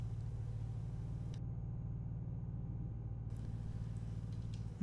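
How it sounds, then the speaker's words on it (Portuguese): Truck engine in Euro Truck Simulator 2, a steady low droning rumble with a constant tone, held at an even level throughout with no talk. "Que não dá para deixar o caminhão berrando à toa."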